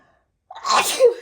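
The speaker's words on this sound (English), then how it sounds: "I have to sneeze." A single loud, close sneeze bursts out of silence, a sharp breathy blast trailing into a short voiced tail.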